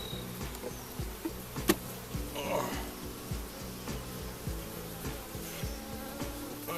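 Honey bees buzz around an open hive during an inspection, a soft, steady droning hum with individual bees passing close, while a person talks quietly over it.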